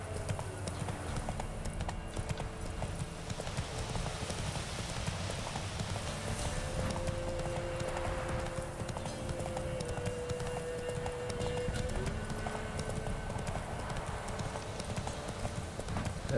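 Roach, the horse in The Witcher 3, gallops in a fast, steady clip-clop of hooves that continues throughout, close and prominent over faint ambient background.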